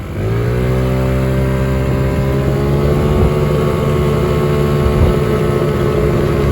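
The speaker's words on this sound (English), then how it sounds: "I gotta rev it up to the right where it starts to grab at" A Taotao Pony50 pit bike with new clutch springs revs hard to full throttle, the engine note climbing quickly then holding a loud, sustained high-pitched buzz up close.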